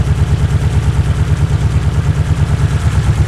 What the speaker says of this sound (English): there's a rattly, knocky, clanky noise from the front of the engine